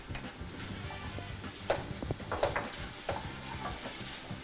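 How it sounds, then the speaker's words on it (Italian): Strozzapreti pasta tossed with mushrooms and chopped parsley in a pan, steady sizzling with stirring and a few sharper scrapes and clinks, close and continuous, no voices. "La pasta è pronta, la saltiamo in padella con i funghi."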